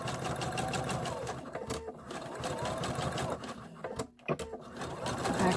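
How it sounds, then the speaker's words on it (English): A sewing machine back-stitching and stitching around the bottom of a fabric egg, with a steady, close mechanical whirring and rapid needle clatter that briefly pauses and restarts. "I'm going to start sewing again, back stitch. And I'm going around the bottom of the egg now."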